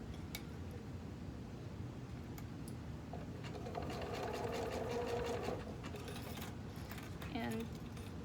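A sewing machine stitches knit binding onto a cami armhole, a faint steady whir of rapid needle strokes running throughout, rising slightly midway, with no talk.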